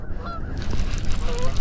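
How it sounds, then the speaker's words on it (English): Geese honk repeatedly on an island shoreline, the calls rising over steady outdoor wind and water noise. "Here comes some of them geese that crapped all over this island"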